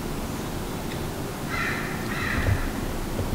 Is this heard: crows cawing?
yes